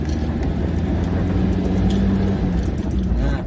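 A car engine pulling away in first gear on flat ground, a loud, steady low rumble that holds close throughout, with no talking.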